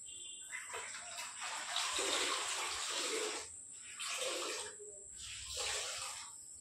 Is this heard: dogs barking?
no